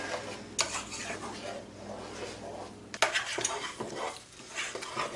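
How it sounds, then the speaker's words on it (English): Raspberry pie filling bubbles in a pot as a spoon stirs it continuously, making scraping, clinking strokes over a soft simmering hiss, heard close with no talking. "you want to stir this constantly for probably about 2 minutes"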